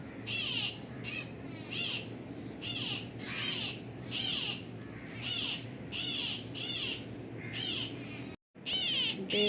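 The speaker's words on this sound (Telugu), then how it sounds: "Baby peacock." A baby peacock calls in a repeated series of loud, harsh cries at a steady rhythm of roughly one per second, close by over a constant background hum, with one brief dropout near the end.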